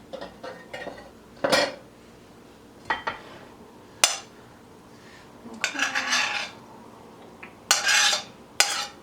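Cutlery and dishes clatter close by while a salad is plated, with a knife moved aside, giving scattered clinks and scrapes in irregular bursts and no talking.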